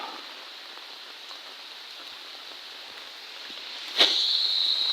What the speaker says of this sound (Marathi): पाऊस पण आहे ना